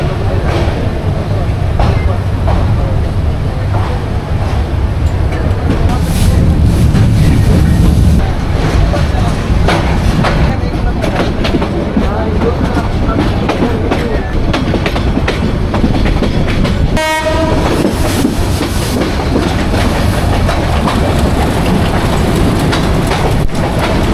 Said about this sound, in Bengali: 6:17 ঢাকা কমলাপুর রেলওয়ে স্টেশন থেকে আমাদের ট্রেন ছেড়ে দিল